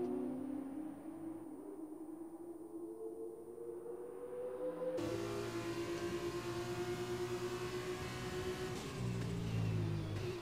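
A Formula 2 race car in a racing video game screams at high revs, then drops a gear with a sharp pitch change and accelerates hard again, loud and continuous.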